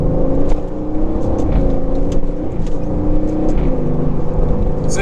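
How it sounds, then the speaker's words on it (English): An Aston Martin cruising in sports mode on the road, its engine giving a continuous low, throaty hum with a steady wind and road roar, loud and constant throughout. "So what's the Aston really like to drive?"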